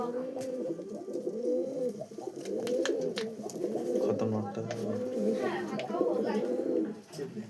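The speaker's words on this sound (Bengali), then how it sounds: "খুবই ভালো ভালো পায়রা আছে এখানে" A flock of racing pigeons coos steadily with overlapping, rolling throaty calls that carry on at moderate volume throughout.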